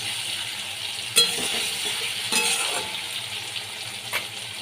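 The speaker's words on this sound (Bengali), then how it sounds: "এবার ভালো করে ভেজে নিতে হবে।" Hilsa fish frying in a pan with taro pieces, a steady broadband sizzle throughout with a few sharp clinks of a utensil against the pan, close and moderately loud.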